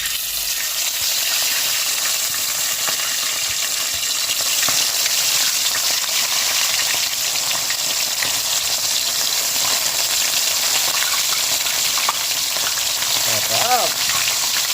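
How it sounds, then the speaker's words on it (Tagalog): Fresh fish frying in hot cooking oil, a steady loud hiss and crackle of sizzling that holds evenly throughout, with a brief faint sound near the end. "magpiprito na po para sa ating mukbang"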